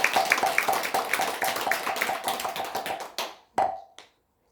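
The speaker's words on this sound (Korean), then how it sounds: "두 분 다 건강하시라고 큰 박수 한번 부탁드립니다." A gathering at a Korean Buddhist temple claps in congratulation, a dense round of applause that thins out into a few last scattered claps before falling silent.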